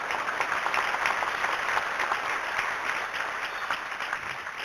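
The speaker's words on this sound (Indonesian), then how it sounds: "Suara tepuknya demikian ramai." Audience applause at an Islamic lecture session, a dense, continuous wash of clapping that holds at a fairly even level throughout.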